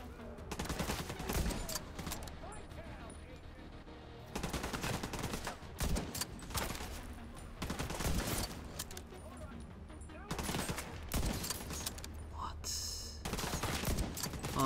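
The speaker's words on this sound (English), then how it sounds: "Those are all panic shots." Heavy automatic gunfire from The Division 2 shooter game, rapid bursts and fusillades roaring loud and close in repeated waves across the stretch, with a voice speaking over the shooting at times.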